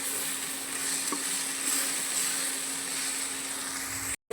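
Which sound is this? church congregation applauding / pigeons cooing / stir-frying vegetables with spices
stir-frying vegetables with spices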